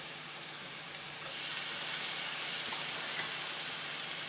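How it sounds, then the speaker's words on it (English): Rice fries in hot olive oil for a shrimp and broccoli stir fry, a close, steady hiss that flares louder as the grains hit the pan and keeps up a crackling sizzle. "So I let it get nice and hot, and then I start adding my rice."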